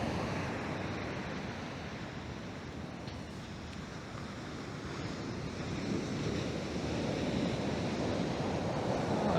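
Ocean waves washing onto a beach on a mild day, a steady broadband surf hiss with wind buffeting the microphone, gradually swelling louder toward the end.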